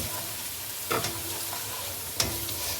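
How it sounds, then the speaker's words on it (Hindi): Garlic ginger paste frying in oil with whole cloves, cinnamon sticks, cardamom, bay leaves, mace and star anise for beef biryani, a steady soft sizzle broken by two sharp scraping stirs, close with no talk. "अब इसको भून लें लहसुन अदरक पेस्ट को भी इसके साथ।"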